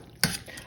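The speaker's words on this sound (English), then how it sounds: "Stir this around." Food being stirred in a pot while making stuffed shells with meat and cheese, a brief scraping clatter near the start followed by softer swishing and faint liquid movement, close and fairly quiet.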